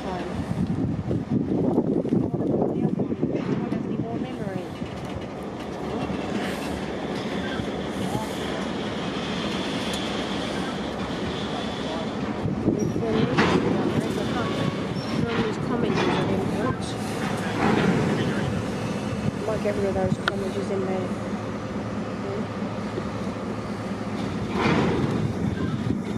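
Two locomotives, S302 and S317, shunting a grain car at Kensington Station, with a steady rumbling engine drone and occasional clanks and squeals over wind noise for the whole stretch, and a voice now and then.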